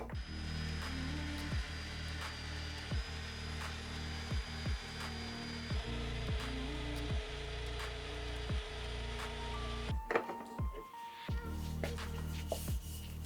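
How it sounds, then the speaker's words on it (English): Wooden parallette handles spinning on a lathe while being sanded smooth, a steady whirring hum with regular rubbing pulses, close and continuous, then a brief clunk and shift in tone near the end. "I definitely wanted to sand the handles smooth, and now I had to put them back into the turning station"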